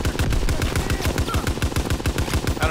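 Bren light machine gun in a World War II shooter video game firing a fast, steady burst of rapid shots, loud and close throughout.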